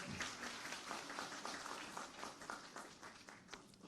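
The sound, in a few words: applause welcoming award recipients at a ceremony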